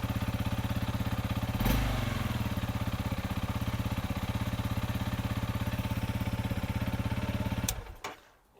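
A Honda CRF motorcycle engine runs steadily at a close, even idle with a rapid regular pulse, a brief revving surge early on, then cuts off abruptly near the end.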